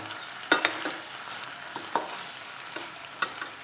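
Fish pieces added to a pan of elephant apple and mustard, a soft steady sizzle with a few sharp clanks and stirring scrapes, close by.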